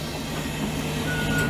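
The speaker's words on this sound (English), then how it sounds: "This is the operator assault alarm" A conventional school bus operator assault alarm sounds during testing, a steady electronic tone held over a low idling rumble, continuous and fairly loud with no talk.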